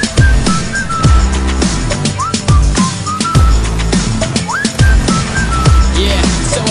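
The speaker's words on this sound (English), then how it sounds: "so I whistled at her." A person whistles short rising, sliding notes over a loud, steady music track with punchy drums throughout, the whistles repeating every second or two.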